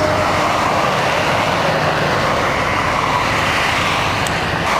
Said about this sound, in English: the plane's disappearing off into the thick haze that has now developed